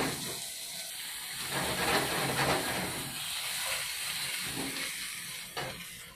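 Fish coated in breadcrumbs and pepper frying in a hot pan gives off a constant loud sizzle and hiss, swelling and easing a little with crackling spits throughout.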